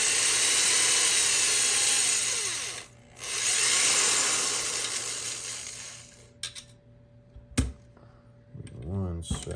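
A drill spins a cleaning brush inside an AR-15 barrel, giving a loud steady whirring scrub that stops briefly and then resumes before quieter clicks and handling knocks near the end.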